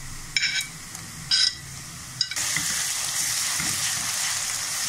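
A medium onion frying in a pan for a Pakistani haleem dish: a few brief sizzling bursts, then a steady loud hiss of frying that carries on to the end.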